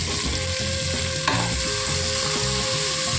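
Tomato and mixed vegetables for kadamba rice sauté in hot oil, a steady close sizzle with occasional stirring scrapes running the whole time, no voices.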